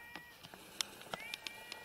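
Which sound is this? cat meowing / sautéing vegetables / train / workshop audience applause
cat meowing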